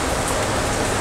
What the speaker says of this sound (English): Can you see the rain behind us?